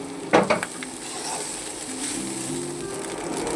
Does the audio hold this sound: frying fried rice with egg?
yes